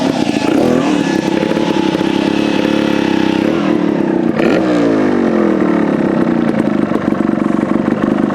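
A Beta TR34 trials motorcycle engine runs loud and close during a front-wheel manoeuvre, holding a steady throbbing note, then dipping and swelling again as the throttle is worked.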